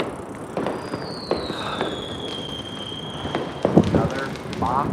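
Fireworks going off on the Fourth of July around Coney Island, Brooklyn, heard as scattered pops and crackles with a long rising whistle, among outdoor crowd noise and talking.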